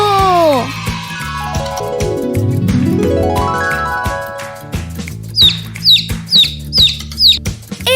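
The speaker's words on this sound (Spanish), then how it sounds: "¡Es el pollito!" Baby chick peeping in a children's animal-sound guessing game: after a swooping musical flourish, five evenly spaced, high, bright peeps ring out over backing music.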